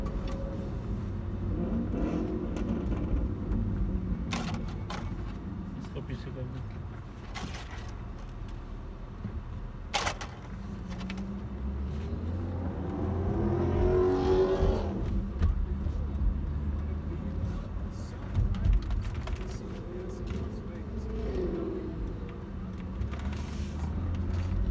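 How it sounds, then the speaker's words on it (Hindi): Light road traffic on a Saturday near an old village, with cars passing steadily at moderate distance, a low continuous engine rumble and occasional louder swells as vehicles go by. "आज ना ट्रैफिक जो है ना इतनी ज़्यादा नहीं है"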